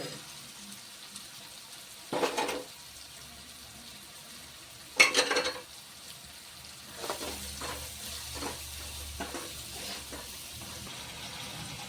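Gathiya being tipped into a pan of whole-onion curry, with a couple of short rustling pours and stirring scrapes over a quiet, steady sizzle.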